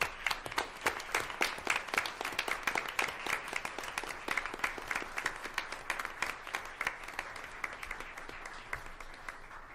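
Audience applause at a school board meeting as a new elementary school staff member comes forward, a moderate, continuous patter of many hands clapping in a meeting room, fairly soft and steady throughout.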